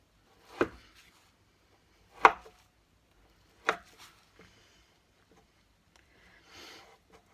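A very sharp knife slices through a bar of soap to cut rainbow embeds, giving three distinct thunking cuts spaced about a second and a half apart against near silence, followed by a few faint handling noises.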